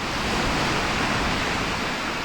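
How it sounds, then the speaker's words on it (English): Sea waves roll in on a beach on a winter afternoon, a steady close hiss and wash of surf that fills the whole stretch without a break. "Oh, those waves are really coming in. The sea's really starting to come in now"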